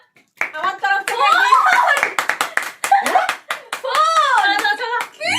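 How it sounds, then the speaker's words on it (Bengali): Hand clapping at a small child's surprise birthday celebration at home, quick close claps mixed with excited voices and chatter. "দেখো হাততালি।"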